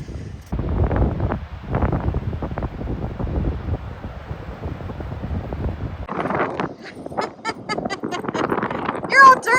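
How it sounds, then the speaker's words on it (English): Gusty evening wind buffets the microphone in uneven bursts near an ocean beach, with rustling noise throughout and a brief change in texture near the end. "It's a windy evening"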